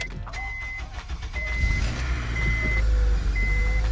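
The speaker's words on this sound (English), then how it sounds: "so we've reconnected the battery to the car. We're gonna turn it on." A car started up after its battery has been reconnected: engine noise builds under repeated high electronic chimes and warning beeps, with a low steady rumble growing louder toward the end.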